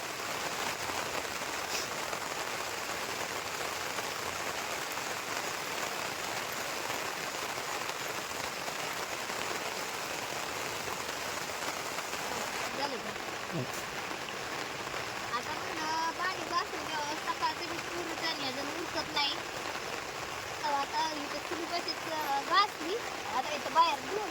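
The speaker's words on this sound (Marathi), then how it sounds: "बाहेर पाऊस येतोय" Steady rain falls outdoors in a continuous soft patter that stays even throughout, with faint voices talking underneath.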